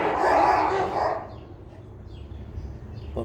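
Puppies bark and yip while fighting, a burst of loud scuffling barks at first that fades into quieter rustling and low background noise.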